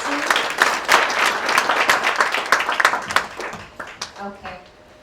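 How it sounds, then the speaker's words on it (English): Audience applause at an awards ceremony, a dense burst of many hands clapping that swells and then thins out toward the end, with a voice speaking over it. "Another hand of applause for Lucy"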